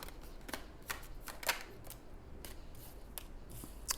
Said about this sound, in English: I'm pulling out 3 cards for your general energy.